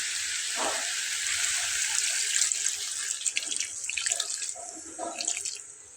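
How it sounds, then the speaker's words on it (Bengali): Water runs steadily from a tap or jug into a pan of vegetable curry made with dried fish, a continuous bright splashing pour close by with small gurgles near the end and no talking. "তো আমি এখন এটাতে পানি অ্যাড করব।"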